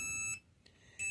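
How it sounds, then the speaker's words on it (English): A high electronic alarm on an E-Ride Pro SS electric motorbike beeps in short bursts, cutting off briefly and then sounding again, fairly loud and close. "That's my alarm."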